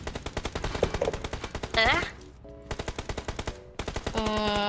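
Rapid automatic gunfire from PUBG Mobile rattles out in quick bursts with short pauses, loud and close, mixed with in-game sound effects and chimes.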